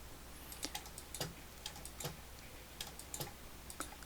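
Computer keyboard keys clatter in quick, irregular bursts while shortcut commands are entered in Illustrator, the light clicks close and fairly quiet over a low steady hum, with no talking.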